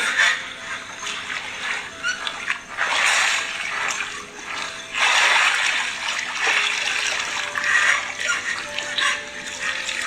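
A person bathing in a lake at midnight stirs up close, loud water splashes and sloshing, arriving in several uneven surges with quieter trickling between them.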